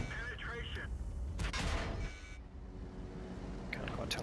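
Gunfire from a distant tank battle in a tank war game sounds as several bursts of shots and booms over a steady low rumble, with a voice talking through part of the stretch.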